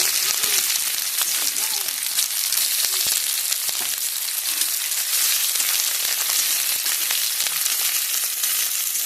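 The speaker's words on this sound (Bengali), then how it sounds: "তেলটা গরম হয়ে গেছে, এখন পেঁয়াজ কুচি দিয়ে দেবো।" Chopped onion sizzling in hot oil left from frying fish-roe fritters. A loud, close, continuous crackling hiss with fine spatters runs steadily from start to end.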